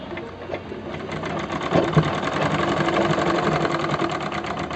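A sewing machine runs steadily, stitching fabric in a continuous, close, loud hum of rapid needle strokes with no talking.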